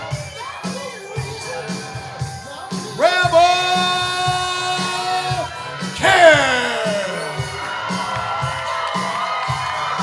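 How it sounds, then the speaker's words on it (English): A wrestling crowd cheers and whoops in loud ovation at a live event, with surges of shouting and high-pitched yells rising around the three- and six-second marks while an announcer talks over the noise. "Listen to this ovation. The crowd loves them"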